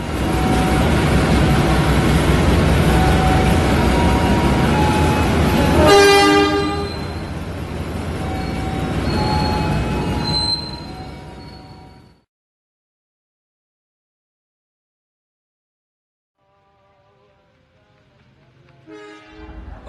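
The Argo Bromo Anggrek executive passenger train rumbles past loudly, its horn blaring midway. The rolling noise then drops to silence before a faint horn returns in the distance.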